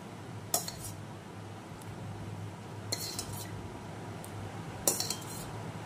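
A spoon clinks against a bowl while stirring curd into ragi rawa idli batter, three short clusters of metallic taps over a quiet background, close by; no speech.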